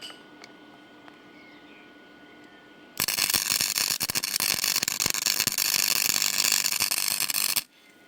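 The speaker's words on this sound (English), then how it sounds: "Time to weld." Tack welding on a turbocharged Toyota Supra mk2 build produces a loud, harsh crackling hiss that starts abruptly and runs steadily for several seconds before cutting off, following a quiet lead-in.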